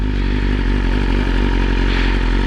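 A 2020 BMW S1000RR sits idling, its exhaust giving a steady, close, loud engine rumble with a fine mechanical clatter running underneath the whole time.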